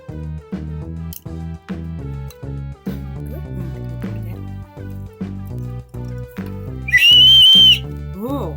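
A cheap plastic toy water bird whistle, filled with more water, is blown in a series of short rhythmic toots followed by a loud, high, bubbling warble near the end, close and alone.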